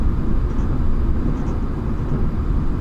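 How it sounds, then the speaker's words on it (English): A steady, loud low roar of jet engines and rushing air as an Airbus A340-300 airliner brakes on the runway in a flight simulator game, continuing without a break. "You can hear that really cutting the brakes."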